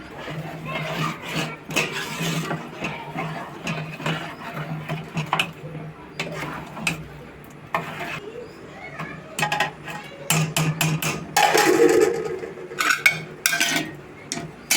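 A pot of Telugu tamarind pulusu is stirred with a spoon, giving repeated light metallic scrapes and clinks, and a lid is then set on with a clatter. A voice talks intermittently over the kitchen sounds.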